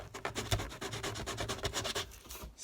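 Sandpaper scrubs by hand at a freshly cut hole in a model train control panel, a steady run of quick rasping back-and-forth strokes, close and fairly loud, with no talking.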